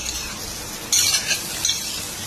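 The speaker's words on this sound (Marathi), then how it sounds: "आपल्या ह्या तडक्यामध्ये ह्या आपल्या इडल्या किती सुंदर पद्धतीने फ्राय होत आहेत" Idlis frying in an oil tempering of chili slices, coriander and chili flakes, a steady sizzle that jumps louder as a spoon stirs and scrapes the pan twice, close and clear with no talking.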